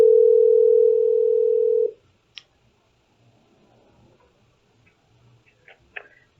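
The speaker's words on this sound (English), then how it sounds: "You can dial. Yeah. Let's see if it rings." A telephone on speakerphone holds a steady, loud dial tone for about two seconds, then cuts off. Faint clicks and taps follow, with no audible ringing.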